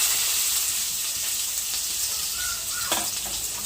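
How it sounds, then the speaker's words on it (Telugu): Finely chopped onions frying in hot oil give a dense, steady, close sizzle with a brief clatter near the end and no talking. "సన్నగా తరిగిన ఉల్లిపాయలు అయితే వేసుకున్నాము."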